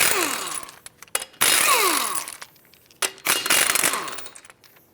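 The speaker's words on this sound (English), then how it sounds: "Continuing with the 19mm socket, take off all 5 of your lug nuts and then remove the wheel." Lug nuts being removed with a 19mm socket from the rear wheel of a 2006-2011 Chevrolet HHR, three loud whirring bursts from a power tool with metallic rattles between them and no talk.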